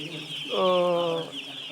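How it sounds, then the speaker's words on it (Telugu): A single short chirping call from a young chicken chick rises clearly over a faint steady hum, brief and near. "మాకు ఈరోజు రాత్రి కోడి పిల్లలు వచ్చినాయి."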